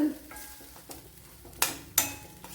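Onion chutney frying on a low flame with a faint, steady sizzle and a few soft scrapes as it is stirred, then two sharper spoon knocks against the pan close by.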